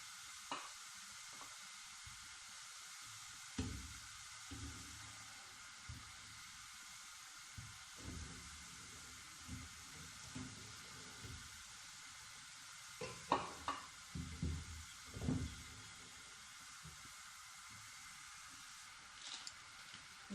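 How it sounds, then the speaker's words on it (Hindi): Tomatoes set one by one into a pan of water for homemade ketchup, faint soft knocks and splashes over a quiet hiss, scattered across the clip and clustering near the middle. "ये टमाटर इस तरह इसमें रख लेंगे।"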